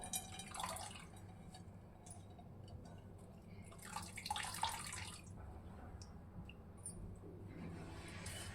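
Water drips and trickles from freshly washed coriander leaves draining in a kitchen, soft scattered droplets with a few brief splashy bursts over a low background hum.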